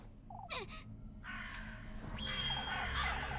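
Crows in a video game give a couple of harsh caws, then a longer rasping call over a low ambient drone, with no talk.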